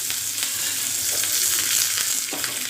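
Onions fry in a hot tempering for sambar, giving a steady hissing sizzle with a few scraping stirs and light pops, close and alone.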